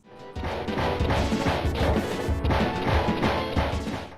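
Repeated loud smashing and whacking from a video game bonus stage where barrels are broken apart, with dense impacts hitting in a fast, continuous run.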